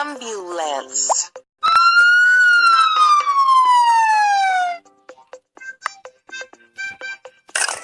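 Ambulance siren in a children's transport puzzle game: a loud synthesized wail sliding downward for about three seconds, framed by short cartoon plops and game sound effects.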